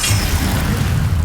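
Fire spell cast in the video game Hogwarts Legacy, a loud, dense burst with a low rumbling boom and hiss sustained across the whole short moment, no talk.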